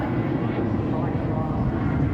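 A turbo jet aircraft at the 2005 Clacton Air Show on the UK coast gives a loud, steady, broadband roar that holds for about two seconds, with voices mixed in.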